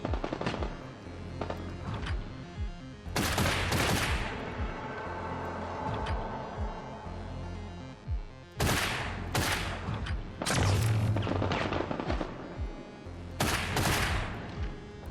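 Bursts of gunfire in the video game Get Even, several loud sharp volleys and rapid shots separated by short pauses, with no talking.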